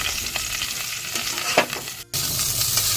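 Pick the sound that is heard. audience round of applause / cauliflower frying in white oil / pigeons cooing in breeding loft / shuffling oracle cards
cauliflower frying in white oil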